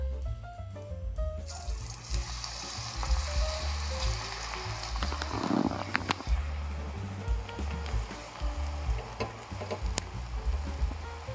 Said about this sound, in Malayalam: ഇനി നമുക്ക് കോളിഫ്ലവർ വറുക്കാനിടാം